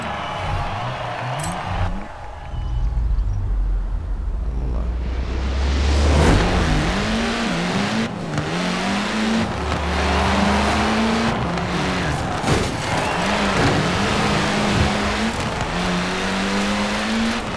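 A racing car engine in Forza Horizon 4 revs hard and climbs through the gears, with rising and falling pitch sweeps and shifts, loud and continuous with occasional tire noise.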